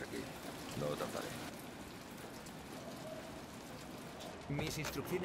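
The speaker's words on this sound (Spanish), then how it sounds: "Está lloviendo." Steady rainfall in the video game Detroit: Become Human, a soft continuous hiss of drops under quiet voices that speak briefly at the start and near the end.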